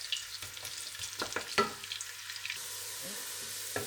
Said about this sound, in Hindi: शामिल करेंगे प्याज। एक बड़ा प्याज काटे चॉप किया हुआ। अब इसको ब्राउन करेंगे थोड़ा सा।